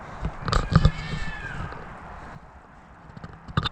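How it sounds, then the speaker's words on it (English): A cat fight outdoors brings a short, wavering yowl amid scattered thumps and scuffles, fairly faint and distant, then a quieter stretch with a few more knocks. "oh my God, cat fight"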